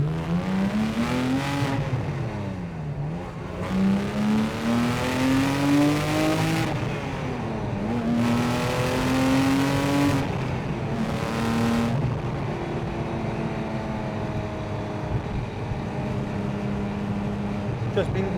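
A Porsche 911 997 GT3 with a 3.6-litre naturally aspirated flat-six pulls hard through the gears, its engine note climbing in repeated rising sweeps and dipping at each shift, loud and close from inside the car, with a voice talking over it.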